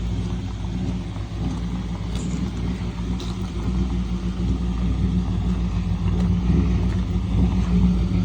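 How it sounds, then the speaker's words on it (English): A 1938 Pontiac drives off with a steady, low engine rumble and road noise, continuous and fairly loud throughout, slowly swelling a little toward the end. "Pontiac heading out."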